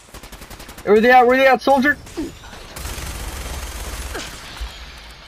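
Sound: turret gunfire in video game Fallout 4

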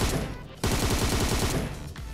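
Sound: gunfire in video game PUBG Mobile

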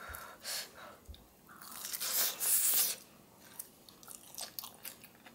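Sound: biting and chewing crunchy cheese potato croquette

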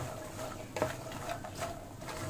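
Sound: stirring fox nuts (makhana) in a pan

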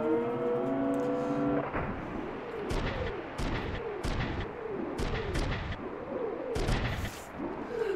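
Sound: explosion in the video game Front Mission 3

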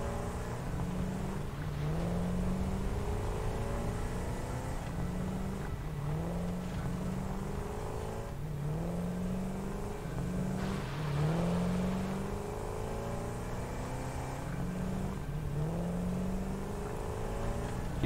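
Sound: car driving in the video game Satisfactory

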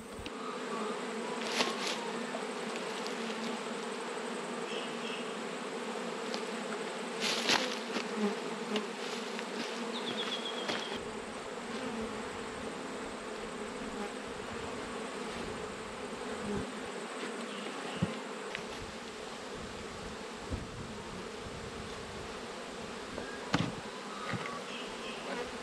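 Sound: honey bees buzzing around an open hive

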